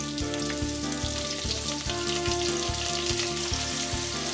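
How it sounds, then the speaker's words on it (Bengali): Two medium chopped onions frying in hot oil after whole spices are tempered, a loud steady sizzle with a regular rhythmic pulsing underneath throughout. "হালকা ব্রাউন করে ভেজে নেব পেঁয়াজগুলো, খুব বেশি ভাজার দরকার নেই।"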